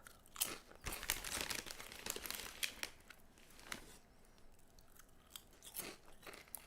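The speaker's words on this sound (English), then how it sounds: "Sorry if the chewing's really loud." Loud, close crunching and chewing of crisp food comes in irregular bites and mouth sounds, with bursts of crackle between quieter moments and no speech.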